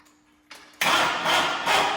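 A Cub Cadet garden tractor engine, on a weak battery, cranks for its first start, a loud, sustained mechanical churn that breaks in abruptly after a quiet moment.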